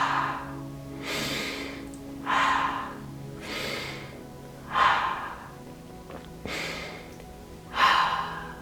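Slow, deep belly breathing during a guided breathing meditation: a steady cycle of soft, airy inhales and exhales, about six close breaths in succession with brief pauses between them.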